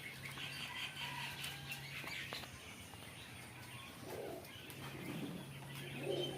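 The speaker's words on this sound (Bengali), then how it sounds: "কি সুন্দর কোয়েল পাখি দেখতেই পাচ্ছেন" Soft calls and low cooing murmur from several quail nearby on a quail farm, set against a steady hum and faint rustling.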